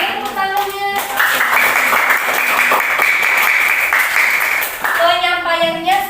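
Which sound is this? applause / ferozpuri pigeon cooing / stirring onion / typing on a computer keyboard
applause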